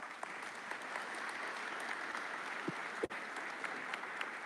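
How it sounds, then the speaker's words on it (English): Steady applause from a graduation commencement audience fills the hall at an even, moderate level, with one brief sharp knock partway through and no speech over it. "Let's give all these folks a round of applause."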